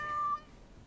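One short, clear meow from a cat in the video game Dragon Age: Origins, a single brief call that quickly fades.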